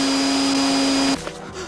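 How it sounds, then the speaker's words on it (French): A vacuum cleaner runs with a steady droning whine and hum for about a second, then cuts off abruptly, leaving quiet room tone. "L'aspirateur! J'ai oublié de l'éteindre!"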